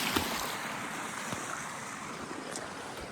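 A constant broad rush of flowing stream water, at low water, fills the scene on the Devkund waterfall trek in Maharashtra, close and fairly loud, with no voices.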